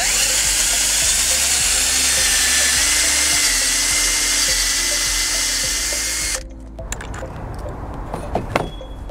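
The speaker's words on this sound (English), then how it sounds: "The first step is to pre-drill two holes on the 4x4." A power drill whines steadily as it pre-drills a hole into a 4x4 wood post for about six seconds, then stops, followed by a few light clinks and handling sounds.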